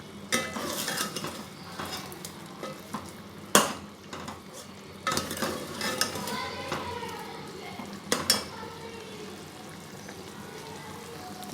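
Chicken karahi frying with salt, red chili, crushed chili and coriander powder, with sharp clanks of a metal spoon against the pan over a quiet background sizzle.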